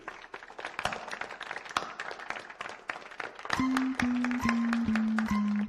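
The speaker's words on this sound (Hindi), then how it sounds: "चलो रवि के लिए तालियां।" A classroom of people claps for Ravi, a dense burst of many hands that keeps going steadily, with a held musical tone rising up beneath it near the end.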